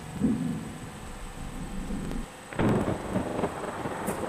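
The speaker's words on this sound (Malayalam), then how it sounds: "ഗൈസ്, നല്ല ഇടിയിട്ടുണ്ട് ഗൈസ്" Thunder in the Bus Simulator Indonesia video game rumbles low and heavy, swelling twice with a loud crack midway, over a steady rain-like hiss and a faint high electronic tone.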